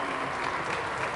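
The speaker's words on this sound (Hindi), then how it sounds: "Give a huge round of applause." An audience at a Banjara community event with a visiting minister bursts into steady, dense applause, many hands clapping together in a continuous wash of sound.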